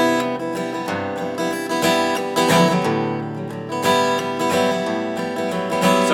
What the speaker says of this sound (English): So the next one we're going to do is going to be a waltz